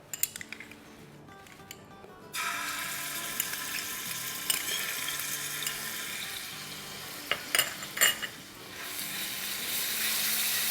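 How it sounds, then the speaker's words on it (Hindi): Crushed garlic sautéing in two to three tablespoons of hot oil in a pan for a restaurant-style handi curry, a steady close sizzle with occasional stirring clinks and scrapes, no talking. "लहसुन को सौटे कर लेंगे।"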